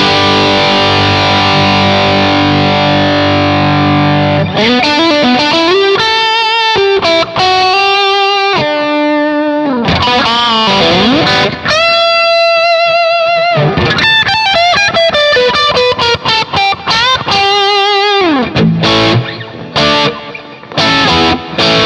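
Loud, distorted Stratocaster on bridge and middle pickups through a Tone City Golden Plexi overdrive pedal, playing sustained chords and quick melodic runs with a thick, saturated tone.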